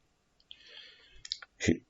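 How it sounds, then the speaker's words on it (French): A computer mouse clicks on a Withdraw button in a cryptocurrency exchange screen, giving a few faint, quick clicks close by in an otherwise quiet room. "Donc je vais cliquer sur Withdraw."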